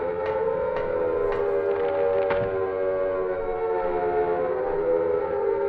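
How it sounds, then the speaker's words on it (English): A long, wailing air raid siren tone in the game Silent Hill holds steady and echoes, with a few faint clicks near the start. "Air siren victory noise."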